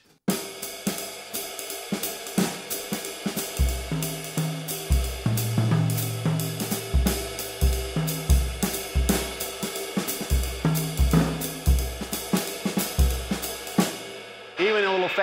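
Jazz drum kit playing a loose, triplet-based ride cymbal pattern, with a steady shimmering ride over punchy low accents and bass-like notes, close and lively throughout.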